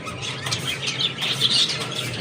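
Pet birds kept at home chirp in thin, high twitters close by, mixed with soft fluttering and rustling over a steady low household hum, with no one talking.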